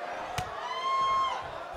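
Fired-up Tokyo arena crowd in the WWE 2K20 wrestling game roars steadily throughout, with one sharp slam-like hit near the start and a rising cheer in the middle.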